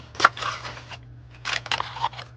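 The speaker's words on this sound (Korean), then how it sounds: "키트 한번 열어볼게요." A bead flower keyring kit is opened, with a few close crinkling, rustling packaging sounds in two short bursts separated by a brief pause, under a faint steady hum.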